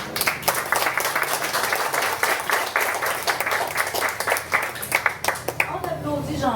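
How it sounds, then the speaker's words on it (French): Wedding guests clap in a lively burst of applause that thins out toward the end, with voices heard underneath. "mon neveu Luc, on l'applaudit."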